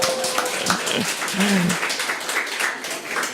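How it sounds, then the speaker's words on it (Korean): Church congregation giving a short round of applause during a sermon, clapping in an irregular patter with scattered voices and a little laughter mixed in. "와 우리 박수 한번 하겠습니다."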